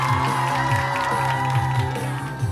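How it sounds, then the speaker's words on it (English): Audience cheering and whooping for a guest arriving at a talk-show desk, loud crowd yells over a pulsing low rhythmic backing, with voices shouting throughout. "everybody give a big round of applause for Ethan Schumann"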